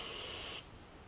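Carburetor cleaner sprays onto the carburetor of a two-stroke Suzuki engine on a Toro push mower, one brief close hissing burst that stops abruptly.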